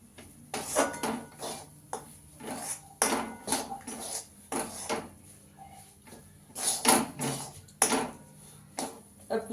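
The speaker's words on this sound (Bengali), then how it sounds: "এই চামচের 1 চামচ দিয়ে ভালো করে মিশিয়ে নেব।" A spoon stirs a kochuri filling of peas and sattu in a pan, making repeated metallic scrapes and clinks in an irregular rhythm, close and fairly quiet.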